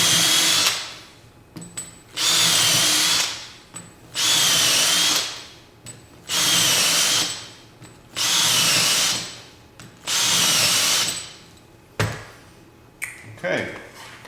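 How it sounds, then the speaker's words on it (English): Power drill boring holes through a template for wall cabinets, about six steady bursts of a few seconds each, evenly spaced with short pauses between, loud and close with no talk over it. "we'll go ahead and continue making the drills"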